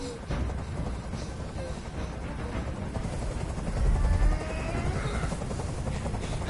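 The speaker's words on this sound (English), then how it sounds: "Tell that helicopter to get out of here" Helicopter hovering overhead in the video game Detroit: Become Human, a steady low rotor drone with a brief swell, running under a voice speaking.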